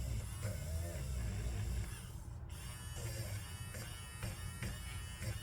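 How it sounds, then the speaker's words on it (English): Electric eraser buzzing steadily against paper to lift smeared gel pen ink, a close continuous motor whir with a brief dip midway. "I'm just gonna use my electric eraser for a second."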